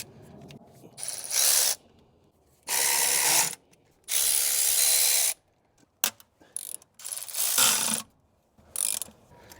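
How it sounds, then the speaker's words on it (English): A ratchet wrench loosens the 10mm bolts holding down the fuel rail on a 1986 Corvette C4, giving several close, loud bursts of rapid clicking separated by short silent pauses. "Now I'm gonna remove the 4 10mm bolts that's holding the fuel rail down."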